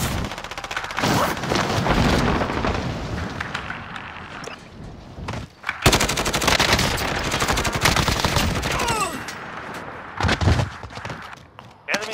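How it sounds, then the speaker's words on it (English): Call of Duty: Modern Warfare gunfire: repeated bursts and single loud shots cracking through busy game ambience, with a louder volley near the middle and a spoken voice at times. "I have to shoot you."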